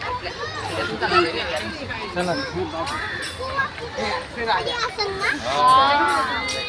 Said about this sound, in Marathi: किती गर्दी आहे बघा ना